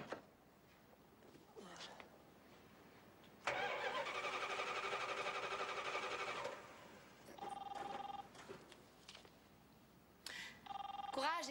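A car is cranked repeatedly after carburetor work, with bursts of starter whirring and engine churning, while a telephone-like ringing and faint talk are heard in between.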